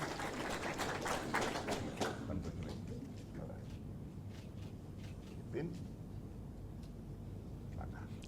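Audience applause at a Duke of Edinburgh Award ceremony as a recipient is called up, a steady wash of clapping that is densest early on and thins slightly afterward, with a voice speaking over it.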